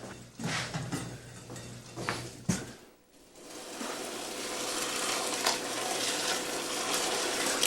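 A few clinks and knocks give way to a steady, rushing pour of boiling water over rice noodles that continues at an even level to the end.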